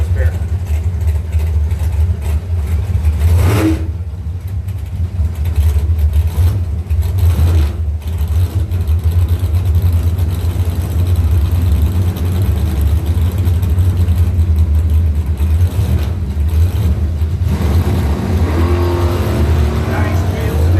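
Mopar drag racing cars roar down the strip at a qualifying event, a loud sustained engine drone over the whole stretch with a commentator talking over it.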